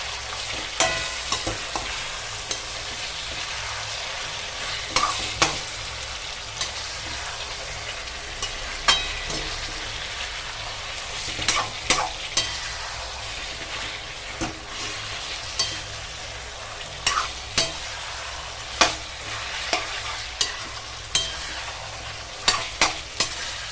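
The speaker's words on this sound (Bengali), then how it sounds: "কষাচ্ছি।" Chicken stir-fried in a pan with salt and a little sugar gives a steady, even sizzle throughout, punctuated by irregular light clinks and scrapes of the utensil, with no talking.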